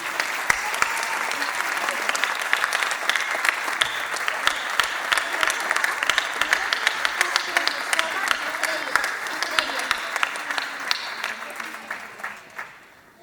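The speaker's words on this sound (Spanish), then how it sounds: "fuerte aplauso." Loud, sustained applause from a theatre audience at the Teatro Xovellanos, dense steady clapping filling the hall for about twelve seconds before tapering off at the end.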